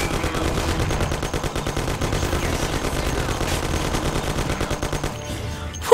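Sustained automatic gunfire from the Mafia video game, a dense rapid rattle of shots filling the whole stretch at steady loudness before a sharp final burst.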